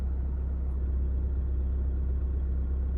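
A car engine idles, slightly high, with a diesel particulate filter warning and engine management light on: a steady, low, even rumble, close and continuous with no talk.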